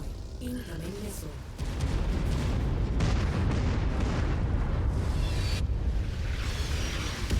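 An incoming missile blasts apart in MechWarrior 5, a heavy rumbling explosion that swells after a brief lull and keeps roaring with layered booms and debris, loud and dense, with no voices over it.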